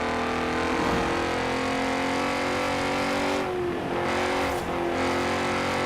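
Classic car in Forza Horizon 4 driving hard, its engine droning loudly and steadily with rising revs, then dipping through two quick gear changes before pulling on, no voices over it.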